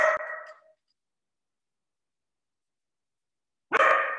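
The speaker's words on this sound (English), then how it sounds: "Excuse me, the dogs." Dogs barking in two loud, close bursts, one at the start and one at the end, with near silence between them.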